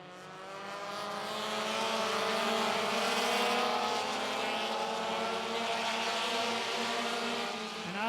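Pro compact race cars pack through a turn at Mt. Lawn Speedway during a 50-lap feature, a loud, continuous, layered engine roar whose rising and falling pitches swell as the field passes close by.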